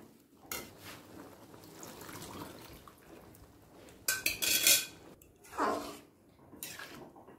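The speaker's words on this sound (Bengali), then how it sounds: "কুকার ধোয়া জলটাও দিয়ে দেব।" Water from rinsing a pressure cooker poured into a pea curry (ghugni), with a clatter of metal cookware followed by a short splashing pour and a second brief slosh, close and moderately loud.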